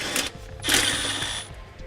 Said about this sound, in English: So I'm going to use a 3/8 socket one more time to remove it.